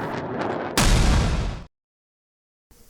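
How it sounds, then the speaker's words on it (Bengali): An Iron Dome interceptor missile launches against a rocket with a sudden, loud roaring blast that holds for about a second. Earlier rumbling comes before it, then a cut to near silence. "সঙ্গে সঙ্গে একটা মিসাইল ফায়ার হয়ে বেরিয়ে যায় এবং মাঝ আকাশেই ওই নির্দিষ্ট রকেটটাকে ধ্বংস করে দেয়।"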